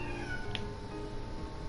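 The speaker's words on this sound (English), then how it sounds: "Cat meowing in the background." A cat meows once, briefly and at moderate distance, behind the steady background of the platform game Guts and Glory, with no speech.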